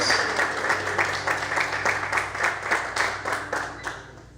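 A church congregation claps in a loose rhythmic beat, steady pulses of many hands sounding together over a low background hum during an evangelical service.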